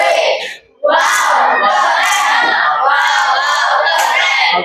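Children in a school classroom clap and chant the 'tepuk wow' routine. Their loud group voices come in rhythmic, shouted bursts after a brief pause at the start.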